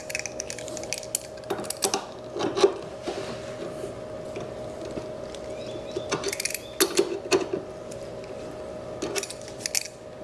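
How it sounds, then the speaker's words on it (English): A crescent wrench works a 1-inch lug nut loose on the rear wheel of an Ausom Gallop e-scooter, giving scattered metallic clicks and ratchet-like scrapes over a steady low hum, with no talking. "we're going to go ahead and get this 1-inch lug nut taken off"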